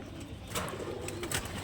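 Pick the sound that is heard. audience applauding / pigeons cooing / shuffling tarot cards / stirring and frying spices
pigeons cooing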